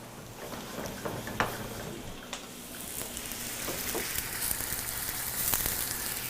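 Steady sizzling and bubbling from radishes cooking in a saucepan, with occasional small clicks and stirring sounds, close and moderately loud.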